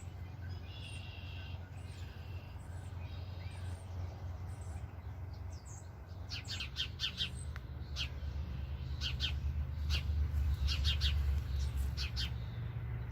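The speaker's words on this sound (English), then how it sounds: "Bird is loud because of the babies in there." A garden bird near its nest of babies calls in repeated high chirps in a spring perennial garden, at moderate distance over a low steady hum, growing busier in the second half.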